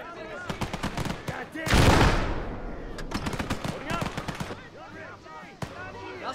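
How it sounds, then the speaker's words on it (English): Machine gun fire in the WWII strategy game Gates of Hell, a dense burst of rapid cracking shots near the start followed by a loud blast, with scattered shots and clatter continuing under game voices. "Watch out for that MG!"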